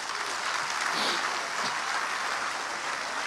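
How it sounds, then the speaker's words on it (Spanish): A church congregation applauding during a Christian sermon, a continuous dense roar of many hands clapping close and fairly loud, steady from start to finish with no voices over it. "Un aplauso a Cristo"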